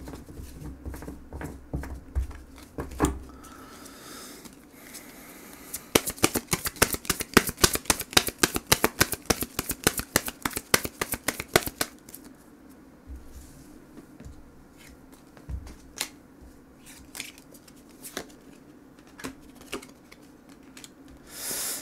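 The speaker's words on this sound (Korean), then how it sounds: "그리고 또 조언 카드를 한 번 더 뽑아보도록 하겠습니다" Tarot cards are shuffled before an advice card is drawn: a fast, close run of crisp riffling flicks lasts several seconds, with softer card handling and taps before and after.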